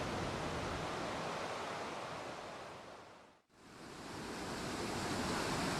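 Keila waterfall in northern Estonia pours as a loud, steady broadband rush of falling water that dips briefly to near silence partway through, then swells back.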